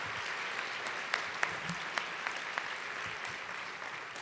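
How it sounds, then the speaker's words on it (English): Soft, steady audience applause at a community schools national forum, a dense even patter of clapping with a few sharper claps standing out, no voices over it. "Give them a big round of applause."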